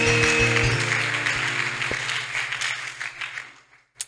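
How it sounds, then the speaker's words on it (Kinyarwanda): A church congregation applauds, with steady clapping that fades gradually and a final isolated burst of claps at the end, alongside sustained organ or keyboard tones. "Reka dukomere Imana amashyi."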